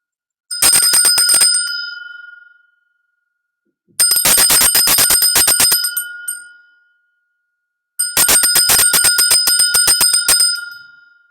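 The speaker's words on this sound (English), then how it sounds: "I'm just going to ring the bell." A small bell rung by hand three times, each strike a bright, loud ding with a quick rattling ring that fades over about two seconds before the next, with silence between strikes.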